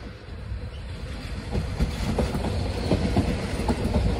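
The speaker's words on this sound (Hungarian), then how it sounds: "de már le is csukódott, és jön is a vonat" An S50 train passes on a railway at an abandoned freight yard in Kőbánya, Budapest, a rising rumble of wheels with rhythmic clicking over rail joints growing louder as it nears, no voices over it.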